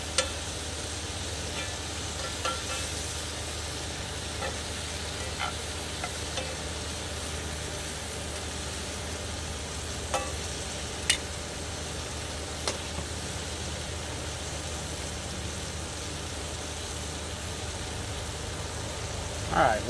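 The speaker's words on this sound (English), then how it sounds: "while those mushrooms are sauteing, I'm just going to be off to the side here chopping up our bacon." Mushrooms sautéing in a pan on the stove for smothered pork chops, a steady soft sizzle running throughout with occasional light clicks of stirring, moderately close and with no talking.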